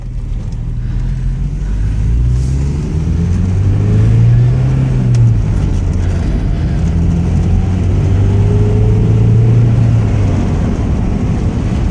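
A 1988 Porsche 944 Turbo pulls in third gear on a small side road, its engine note rising and falling in steady accelerating sweeps, loud and close, with broad road and wind rumble underneath.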